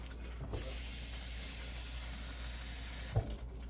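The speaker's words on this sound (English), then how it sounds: "I'm going to pour a lot more water in that" Water poured into a hot pan of thick gravy sets off an abrupt, loud, steady hiss of sizzling steam that holds for about two and a half seconds, then cuts off sharply, close up with no talking.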